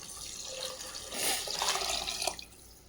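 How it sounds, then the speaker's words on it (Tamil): Water poured into a pot of rice and dal for arisi paruppu sadham, a short splashing, trickling pour that swells briefly in the middle and then tapers off. "தண்ணி ஆட் பண்ணிக்கோங்க."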